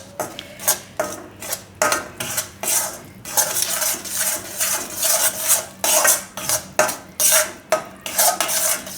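Sorghum flour being mixed into melted ghee in a pot, a rapid run of repeated scraping and clattering spoon strokes against metal, close and fairly loud, with no one talking.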